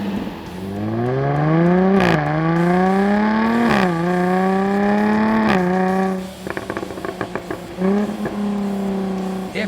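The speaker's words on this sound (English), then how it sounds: "put the camera back there on the tailpipes and let you have a listen" A 2014 Jaguar F-Type Convertible exhaust roars close up through repeated revs, each climbing then dropping, ending in crackling pops and burbles as the engine settles.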